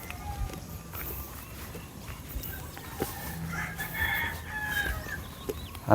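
A rooster crowing near a chicken coop on a rural mountainside, with clucking fowl and outdoor ambience around it, the calls moderately close and rising toward the end.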